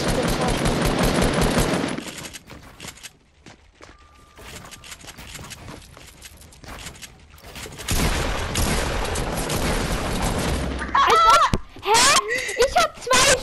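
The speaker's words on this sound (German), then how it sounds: "Ich hab zwei Schüsse auf den Kopf gemacht, einmal mit der Pump und einmal mit der AR" Fortnite creative 1v1 match with pump shotgun and assault rifle fire: loud rapid bursts of gunshots open the scene, a quieter stretch with lighter shots follows, then heavy firing resumes as players laugh and talk over it.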